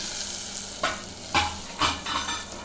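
Oil and ingredients sizzle in a pan before chicken goes in for a Telangana-style chicken fry, with a steady hiss broken by a few stirring scrapes, close and alone.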